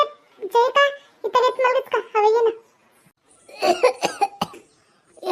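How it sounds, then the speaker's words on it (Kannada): Someone talks for a moment, then a run of several harsh, close coughs follows after a brief pause. "ಕೆಮ್ಮು ಬಾಳ ಆಗ್ತೈತಿ ಯಪ್ಪ"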